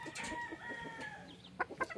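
Chickens cluck repeatedly at close range in a backyard farm, with a rooster's drawn-out call near the start and a few sharp clucks bunched toward the end.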